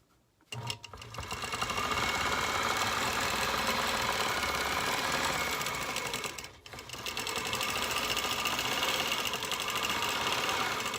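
A sewing machine runs for free-motion quilting with a ruler along a border, a loud, steady close-up whir with a brief dip in the middle before it carries on at full speed.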